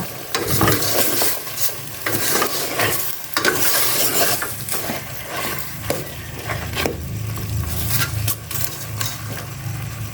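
Food sautéing in a pan, dense continuous sizzling with frequent spatula scrapes and stirs in an uneven rhythm, close and fairly loud, with no talking.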